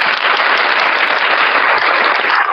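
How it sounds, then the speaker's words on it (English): Loud, steady applause from a large crowd, dense clapping sustained evenly throughout with no break. "Hit that applause button, man, for Angel"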